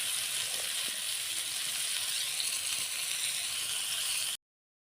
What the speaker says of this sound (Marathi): मस्त फ्राय होते आपली मच्छी